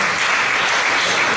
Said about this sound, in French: Sous les applaudissements nourris d'un public.